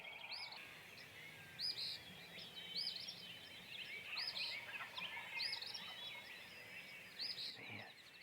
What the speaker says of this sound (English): So they're gobbling down in front.